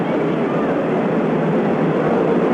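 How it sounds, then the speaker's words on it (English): A low, steady roar of an airplane passing over a baseball stadium during a 1980 Reds versus Mets game, loud and continuous with no break. "For the plane to clear the stadium."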